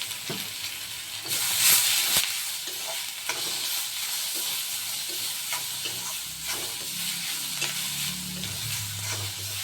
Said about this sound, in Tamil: தக்காளியும் போட்டு அந்த தக்காளி வதங்கிறது கொஞ்சம் உப்பும் போட்டுக்கிறேன் கொஞ்சம் மஞ்சள் தூள் போட்டுக்கிறேங்க கொஞ்சம் வதங்கட்டும்